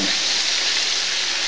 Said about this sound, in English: So this is just to brown the beef, not to cook it.